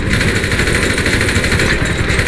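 A steady, loud engine drone with a buzzing mechanical tone runs throughout, close and continuous, like a propeller aircraft engine in GTA 5.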